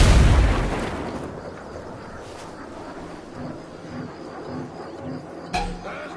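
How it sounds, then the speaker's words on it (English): A grenade goes off in Ghost Recon Breakpoint, a loud burst at the start that rumbles and fades over a second, followed by quieter gunfire-like pops and a sharp crack later on, with no speech. "Watch out! Grenade!"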